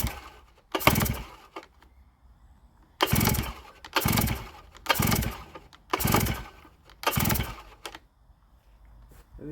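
A Stihl TS800 cut-off saw's engine is pull-started again and again: about six loud, rough cranking bursts roughly a second long, separated by short pauses, close by, with the engine never catching.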